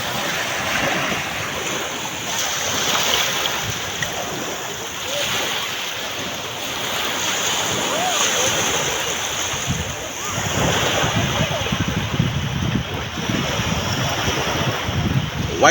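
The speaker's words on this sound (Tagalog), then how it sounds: "Ang alon." Ocean waves roll onto a white-sand beach in a continuous loud wash of surf with gusting wind rumbling on the microphone, and the surges swell and recede.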